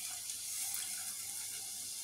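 Water is poured into a pot of mutton cooking in fried masala for biryani, a steady faint rushing pour with a light sizzle, no talking.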